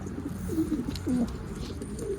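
A pigeon gives a few soft, low coos close by, two or three short rolling calls in a quiet room with no talking.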